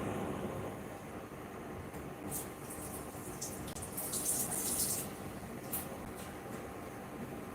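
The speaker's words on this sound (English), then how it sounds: "I'm going to wash the onion" Tap water runs over onions being washed in a home kitchen while Ghana jollof is being cooked, a soft, steady rushing hiss that swells slightly in the middle, faint throughout with no talking.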